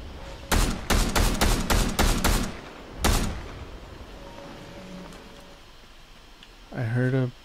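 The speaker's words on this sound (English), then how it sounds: "I hear shooting from the direction of my probable bounty target" Gunfire in the video game Fortnite, a rapid burst of about seven sharp shots followed by one more, then a quiet stretch with faint background sounds before a voice speaks briefly at the end.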